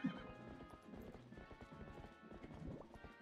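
Horse hooves clip-clop steadily in the video game Zelda: Twilight Princess, with a whinny near the start, the galloping rhythm continuing close and clear over game sounds.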